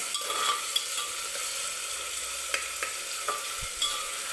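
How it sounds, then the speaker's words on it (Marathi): Chopped onion sautéing with mutton in a pan for a dry mutton dish, a steady soft sizzle with a few sharp clicks of a spatula scraping and stirring, close by with no talk. "कांदा छान गुलाबी रंगावरती परतून घ्यायचं आहे आपल्याला"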